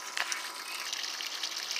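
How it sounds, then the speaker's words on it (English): Cooling water spits steadily from the tell-tale outlet of a Chrysler/Force outboard engine, a continuous hissing gush of thin water heard up close with no talk over it. "the water, extra water comes out here"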